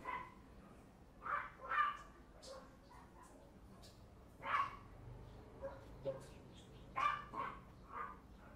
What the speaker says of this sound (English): Dogs are really nice. I hope I can delete this noise.